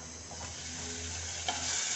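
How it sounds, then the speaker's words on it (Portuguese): Soft, steady sizzling of bacon frying in a pan, low and continuous, with a faint clink of a utensil near the end. "Enquanto esse bacon vai fritando,"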